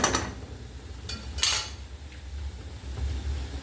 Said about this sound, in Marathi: ह्याला छान परतून घेऊया